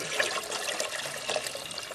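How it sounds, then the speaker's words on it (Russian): Water poured from a container into a camping pot, about three litres for a porridge meal on a hike, giving a steady close splashing trickle heard alone. "в кан мы наливаем 3 литра воды"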